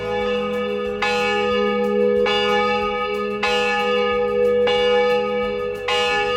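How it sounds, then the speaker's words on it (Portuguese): Two church bells from Germany hang in the bell tower of a large wooden church in São João do Oeste, ringing loud and near in repeated overlapping strokes about every second, each leaving a long humming decay. "Os 2 sinos vieram da Alemanha."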